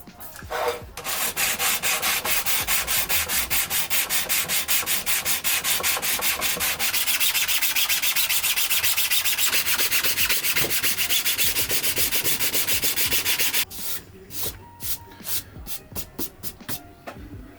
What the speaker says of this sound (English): we're just going to sand that out, and then that gap should be filled